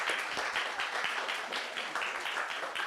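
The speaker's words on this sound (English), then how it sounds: "Big applause here." Steady applause from a conference audience fills the room, dense overlapping claps at a moderate level with no pause throughout.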